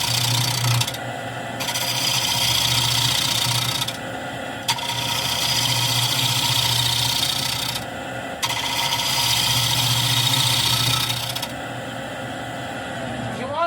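Wood lathe spinning a wooden bowl blank as a tool trues up the rim, with a steady motor hum and bursts of loud, harsh scraping cuts repeating in long passes, close by.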